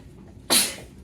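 A single sharp sneeze bursts out halfway through a quiet moment in a maths lesson on combinations and permutations, brief and fairly close against a low room hush.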